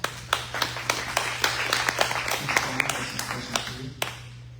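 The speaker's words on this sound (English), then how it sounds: "Round of applause." Scattered, sparse hand claps from a small audience at a city council candidates forum, fairly faint, over a steady low hum in the room.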